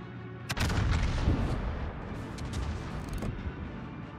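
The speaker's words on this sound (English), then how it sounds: "Concentrate fire on the target." Battleship guns fire at a target in a naval warfare video game, heavy booming blasts with sharp reports and rumbling that trails off over several seconds.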